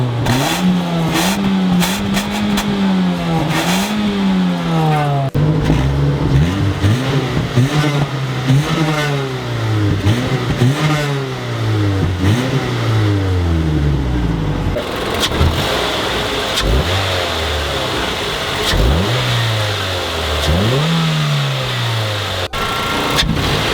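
Mazda 3 engine with its intake resonator deleted, revving repeatedly up and down through the range, loud and close with a raspy intake note rising and falling in long sweeps.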